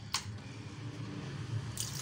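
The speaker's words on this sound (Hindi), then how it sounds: "इसको अच्छी तरह पानी से वॉश कर लेना है" Salted bitter gourd being rinsed in water by hand, soft squishing and sloshing close up, with two brief wet splashes at the start and end, quiet and without talk.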